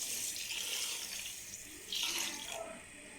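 Water streams steadily from a tap into a cooking pot holding sugar on a stove for raw mango jam, a continuous close splashing pour that shifts pitch as the pot fills.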